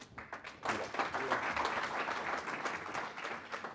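A room of people at a university student pitch event gives a round of applause for the student pitchers, with dense sustained clapping at moderate distance.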